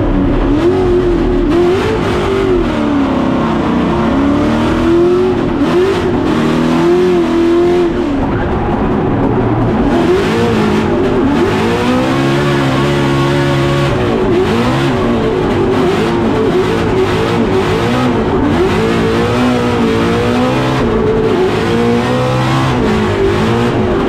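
Formula Drift cars, including a Nissan S15, drift at a Utah competition: loud, sustained engine roar with rising and falling revs, rapid throttle blips and tire noise, continuous throughout with no talking.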